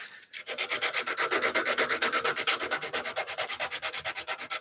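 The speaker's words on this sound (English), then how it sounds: "This one I'm gonna cheat, I'm gonna sand." Hand sanding of a wooden Adirondack chair part, with rapid, even back-and-forth rasping strokes that are close and loud and continue steadily without talk.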